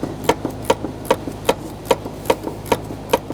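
A ratchet fitted with a 7mm socket loosens a hose clamp on a 2007-2013 BMW X5 3.0L six-cylinder, giving a quick run of sharp, evenly spaced clicks at close range.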